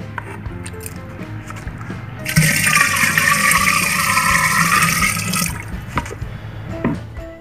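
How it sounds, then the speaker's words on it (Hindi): Water is poured into a pot of curd before churning it into buttermilk at home, a loud steady splashing stream that starts suddenly, runs for about three seconds, then tapers off. "अभी थोड़ा सा पानी डालेंगे"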